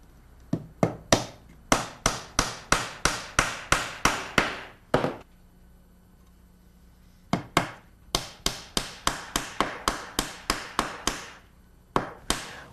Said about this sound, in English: Once that hammer sound changes, you know you're at full depth.